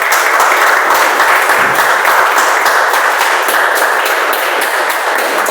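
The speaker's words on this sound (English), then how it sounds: "I would request everyone to give a huge round of applause" Steady, dense applause from an audience at a club speech meeting, loud and continuous throughout without pause, with no voices standing out.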